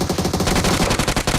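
Rapid automatic gunfire from the mobile battle royale game PUBG Mobile, a dense burst of repeated shots fired in quick succession with no pause.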